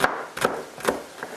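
Knife chopping organic celery on a cutting board: four crisp, close chops spaced roughly evenly, each a short sharp tap against the board, with quiet pauses between.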